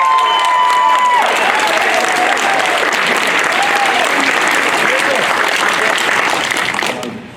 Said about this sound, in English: I'm willing to let you clap as long as you want to clap